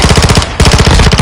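Rapid automatic gunfire in Call of Duty Modern Warfare 2, loud and close, with evenly spaced shots in a fast burst, a brief pause, then another burst.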